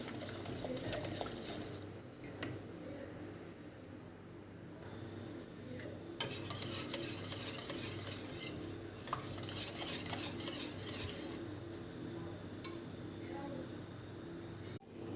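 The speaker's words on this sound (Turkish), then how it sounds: "Diğer yandan da kremanızı çırpa çırpa pişirin." Pastry cream for an éclair cake is whisked as it cooks in a pot, giving faint, steady scraping and ticking of a whisk against metal, with scattered light clinks and a low kitchen background.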